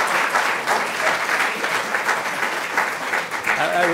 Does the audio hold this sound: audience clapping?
yes